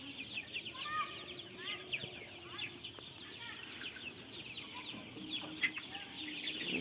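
A flock of free-ranging Sonali chickens clucks and chirps steadily outdoors on a farm. The calls overlap in a busy, moderately distant chorus, with a few sharper clucks standing out.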